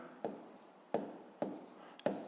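A pen writes numbers on paper while working a fifth-grade math problem, four short scratchy strokes spaced about half a second apart, close and quiet, with no talk.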